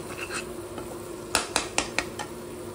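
Crab masala gravy cooks in a pan over a high flame, with a low steady sizzle and a quick run of four or five sharp clinks of a spoon against the pan in the middle, close and fairly loud.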